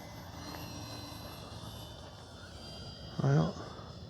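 Faint distant whine of a Durafly T-28 radio-controlled model airplane flying in gusty crosswind, a thin steady buzz with a brief louder sweep as it passes; someone speaks near the end.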